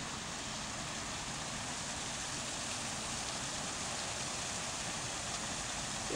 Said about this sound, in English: There he goes, underneath the waterfall.